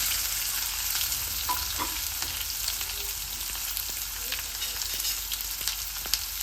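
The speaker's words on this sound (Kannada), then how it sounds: "ಫಸ್ಟ್ ಇದಕ್ಕೆ ಸಾಸಿವೆ ಹಾಕೋರಿ, ಅದು ಮೇಲೆ ಹಿಂದೆನೆ ಕರ್ಬೇವಿನ ಸೊಪ್ಪು, ಅದು ಹಿಂದೆನೆ ಈರುಳ್ಳಿ" Mustard seeds, curry leaves and onions sizzle in hot oil in a home kitchen tempering, a steady close frying hiss with occasional stirring scrapes and no talking.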